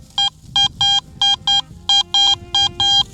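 Metal detector in a field sweeping over a shallow buried target gives about ten short, bright electronic beeps in a quick uneven rhythm, loud and clear over faint wind and ground noise.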